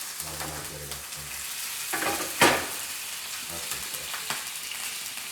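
Food sizzles in a hot pan while a utensil stirs and scrapes the bottom to deglaze it during glazed salmon meal prep, with steady frying and a few sharper scraping bursts.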